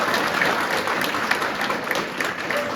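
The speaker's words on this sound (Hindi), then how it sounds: "बस आपकी तालियों में जोर होना चाहिए" Steady applause from a crowd of students and NCC cadets at a rescue training session, a dense, even patter of many hands at moderate volume that carries on without pause.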